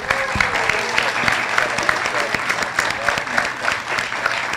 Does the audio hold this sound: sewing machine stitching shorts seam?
no